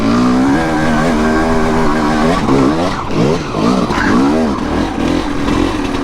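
A 2022 TM Racing EN300Fi off-road motorcycle engine runs loud and close, revving up and down with a smooth, steady tone and rising and falling pitch, with no talking.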